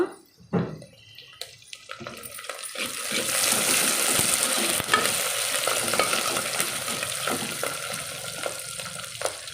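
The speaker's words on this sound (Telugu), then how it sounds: "ఇప్పుడు కరేపాకు ఉంది కదా అది వేసేస్తున్నాను" Curry leaves dropped into hot oil with browned fried onions in a pan for a yam, dried fish and egg curry: a sharp initial crackle swells into a loud, steady sizzle with stirring scrapes, close up and without talk.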